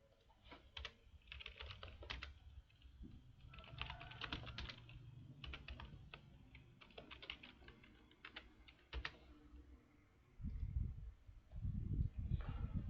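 Typing commands on a computer keyboard while configuring EtherChannel on network switches: quiet, close, irregular bursts of key clicks with short pauses, ending with some low rustling thumps.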